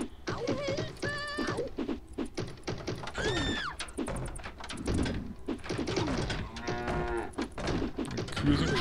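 Cows moo repeatedly in the video game Beasts and Bumpkins, mixed with bird coos and other game effects, fairly quiet and continuous.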